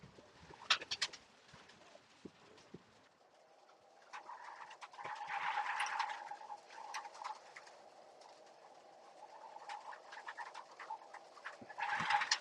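Pigeons or doves calling around a drinker, soft repeated cooing and chirps over a faint steady hum, with a louder burst of calls mid-way and again at the end.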